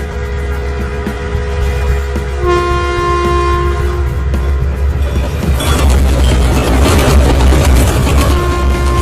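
A train rumbles loudly and steadily while a long, tonal train horn sounds over it and holds, then the rolling rail noise swells and grows rougher toward the end.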